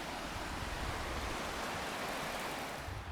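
A creek rushing beside a riverside hot spring pool, a loud, steady wash of flowing water filling the whole moment with no pauses.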